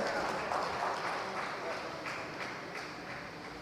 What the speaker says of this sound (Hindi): जोरदार तालियां धन सिंह रावत जी के लिए।